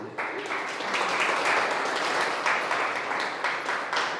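A church congregation applauds God in a steady, dense wave of clapping with a few voices mixed in, sustained for the whole stretch.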